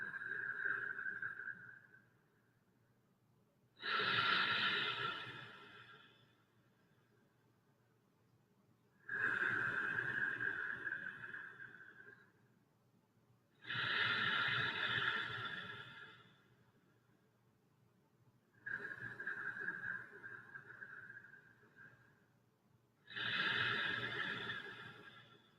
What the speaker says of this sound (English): So you're breathing only in and out through the belly.